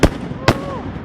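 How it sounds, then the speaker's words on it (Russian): Two sharp bursts of holiday fireworks, the first at the very start and the second about half a second later, each with a loud crackling blast trailing into a whistling tail. The explosions sound fairly close and stand alone without talk. "Салют классный, да?"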